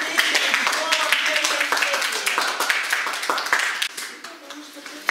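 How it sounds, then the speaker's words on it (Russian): Applause for a girl taking first place at a children's New Year event, dense steady clapping from a room of people that carries on for several seconds, then thins out near the end. "Ваши аплодисменты."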